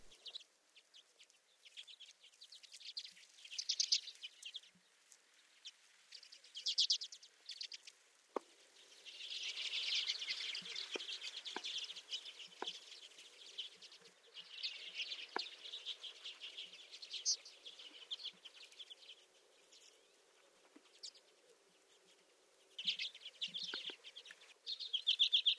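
Common redpolls calling in winter birch and alder trees, a series of thin, high chirps and short trills at moderate distance, scattered irregularly with quiet gaps between bursts.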